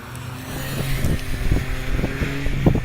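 A Smart Roadster races up the Harewood hillclimb course, its engine a steady, moderately distant drone that slowly grows louder, partly buried under gusty wind buffeting the microphone.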